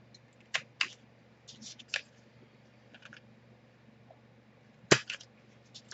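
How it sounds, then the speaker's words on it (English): Small crisp clicks and snaps of a handheld corner rounder punch trimming paper corners for a mini album, a few quiet separate presses with one sharper louder snap near the end, in a quiet room. "I'm just going to use my corner rounder, and I'm just going to round those corners"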